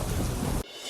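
A heavy monsoon downpour roars as a loud, dense wash of rain. It lasts under a second and drops away abruptly.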